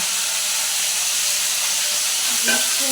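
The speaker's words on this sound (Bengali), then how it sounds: "মাছগুলো ফাটলো যে নুন আর হলুদ দিলাম বলে বেশি ফাটলো না" Singi and magur fish frying in hot oil give a steady, close hissing sizzle with a faint crackle near the end.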